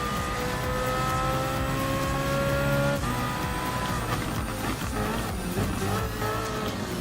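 A BMW M3 GT race car in a Gran Turismo Sport Gr.3 race holds a loud, steady engine drone with rising and falling harmonics, a gear-change dip near the middle, and faint tire noise, with no talking.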